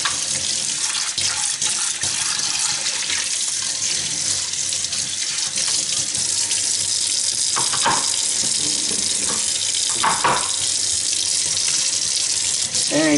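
Steady tap water runs into a sink throughout while citrus juicer parts are rinsed after juicing grapefruits, a constant close hiss broken by a few brief splashy bursts as pieces pass under the stream.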